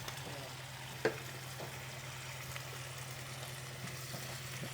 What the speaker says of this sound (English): We'll let the lemon juice cook down just a little bit. A little white wine